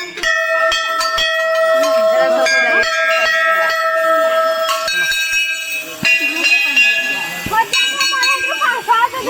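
A bell at the Ghanteswari temple in Sambalpur is struck again and again, each strike ringing out and overlapping the last into a steady, shimmering metallic hum.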